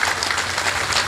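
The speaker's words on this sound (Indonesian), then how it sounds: "Tepuk tangan untuk kita semuanya." An audience applauds at a religious gathering, a steady, dense wash of clapping hands that fills the whole short moment without a break.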